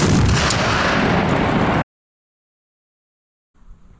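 Thirty pounds of tannerite packed in a 1979 Ford Bronco detonates as a loud, sustained blast roar that cuts off abruptly into silence, followed by a faint rumble near the end.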